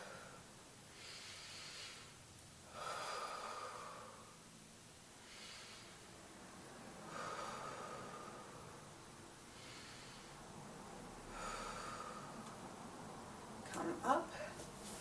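Slow, deep breaths in a standing yoga Goddess pose, with soft airy inhales and exhales repeating at long, even intervals, faint and close, over a low background hiss.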